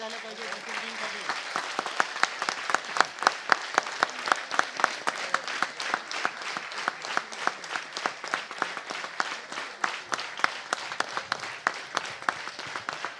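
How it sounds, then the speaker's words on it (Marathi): Audience applause honouring tabla maker Ashok Barekar at Pt. Omkar Gulvady's 80th birthday celebration, sustained dense clapping from a sizeable crowd, steady and close throughout. "जोरदार टाळ्या झाल्या पाहिजे."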